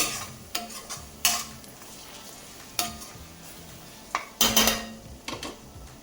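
Fish curry gravy sizzles and fries in a pan while a utensil stirs and scrapes it, with several sharp scraping bursts of metal against the pan over a steady background hiss.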